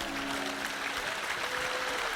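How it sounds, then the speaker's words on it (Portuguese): Audience applause in a church service, a steady dense wash of clapping sustained throughout, fairly loud and without pauses. "Dê a ele uma grande salva de palmas."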